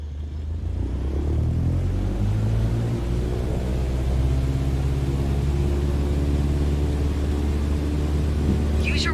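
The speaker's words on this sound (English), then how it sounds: "Apply full power and I'll walk you through the takeoff as we go." A light aircraft's engine runs at full power during takeoff in Microsoft Flight Simulator 2020, a steady, loud drone with a low rumble that holds unbroken throughout.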